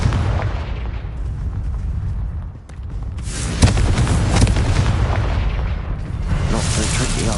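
A Confringo fire spell from Hogwarts Legacy on PS5 explodes with loud, booming blasts. The biggest burst hits mid-clip, and another follows later over a dense, rumbling game soundscape.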